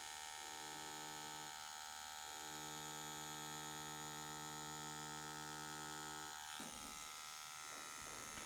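Tattoo machine buzzes steadily at close range while filling in a tattoo, a continuous electric hum that pauses briefly and then resumes, ending with a short break and some handling noise.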